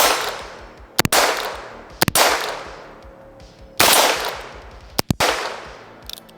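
Gunshots fired at steel targets 30 to 35 yards away, sharp loud reports in spaced pairs and singles, each trailing into a long ringing decay, heard up close with no talking.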